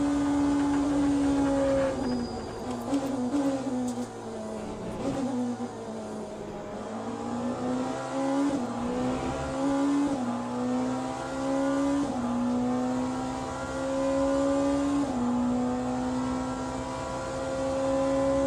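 Race car engine in Le Mans Ultimate during a 90-minute Le Mans special event, droning steadily with rising pitch and repeated gear shifts marked by brief dips, loud and continuous with no talk.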